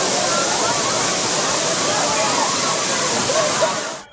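Thirparappu waterfall in Kanniyakumari district roars with a dense, constant rush of falling water, loud and close throughout before fading at the very end.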